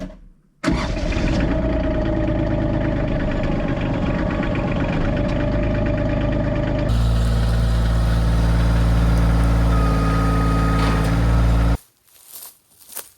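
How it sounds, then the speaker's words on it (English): A 25 horsepower Kioti CK2620 tractor engine starts and runs loud and close, a steady diesel rumble that shifts to a deeper, heavier tone partway through, then cuts off abruptly near the end. "We're going to be using my 25 horsepower Kioti tractor"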